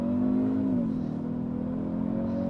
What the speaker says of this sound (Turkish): Sport Plus'ta da böyle vura vura değiştiriyor